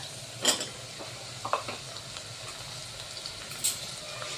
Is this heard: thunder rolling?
no